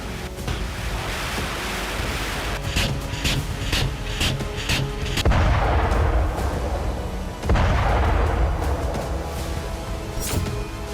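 North Korean KN-09 multiple launch rocket systems fire in a rapid string of sharp launches, followed by heavy roaring rushes and deep rumbling booms, loud and close with no voices.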